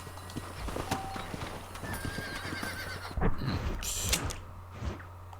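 A horse in the Western game Red Dead Redemption gives a clear whinny amid steady clip-clop of hooves and game ambience, the neigh standing out loud near the middle of the scene.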